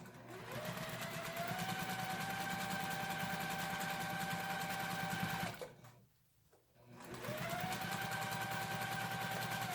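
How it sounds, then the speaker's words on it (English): A sewing machine stitches in the ditch on a quilt, running steadily and loudly with a rising whine, pausing briefly in the middle, then starting up again at the same steady pace. "Okay, and we're just going to stitch."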